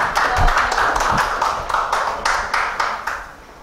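Lecture audience claps in a short burst of applause, a moderate patter of distinct hand claps with uneven rhythm, fairly close and without talk over it.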